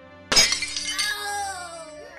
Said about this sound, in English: Just don't squeeze it too hard or you may shatter the measuring cup.